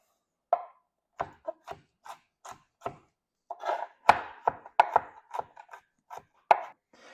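A knife chops peeled vegetables on a cutting board for cauliflower fried rice, giving a string of sharp, close knocks, sparse at first and then faster and denser, with no talking.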